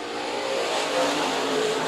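Race cars at a dirt track speedway, their engines roaring steadily at high revs throughout, loud and continuous with a wash of broadband noise and no talk.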